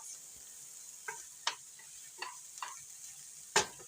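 Ground beef browns in a pan for a beef and cheese polenta lasagna, with a steady sizzle under intermittent scraping stirs of a utensil, heard close up with no talking.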